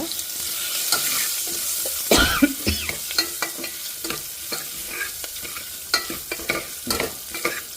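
Spices sizzle as they fry in a pan with turmeric, a bright steady frying hiss broken by frequent sharp stirring and scraping clicks, close and fairly loud.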